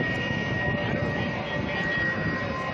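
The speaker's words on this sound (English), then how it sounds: "The Marines, they always bring the loudest airplane to any air show with the Harrier." Marine Corps Harrier jet at an air show, a loud continuous broadband engine roar holding steady throughout, close and powerful with no breaks.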